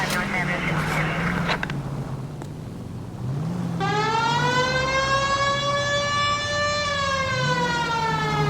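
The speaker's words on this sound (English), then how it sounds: "We have a siren." A police car siren in the video game L.A. Noire, during a drive. It starts partway through after a stretch of talk and engine rumble, then wails loud and steady with driving noise underneath.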